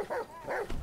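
A police dog in the game GTA 5 gives a few short whimpers and yips, close and fairly loud, in quick uneven bursts with no talking over them.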